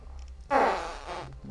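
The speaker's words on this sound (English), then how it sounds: "I guess I'm farting something or other." A single fart, a raspy buzzing burst of about a second that trails off, with faint background sound before and after.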